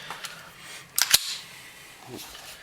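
A Taurus 24/7 OSS pistol is handled during a safety check, with a quick pair of sharp metallic clicks of the slide racking close up, plus lighter handling taps around them.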